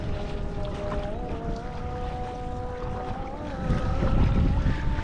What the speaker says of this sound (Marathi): आता बोट स्टार्ट करून आपल्याला 15 मध्ये जायचं आता.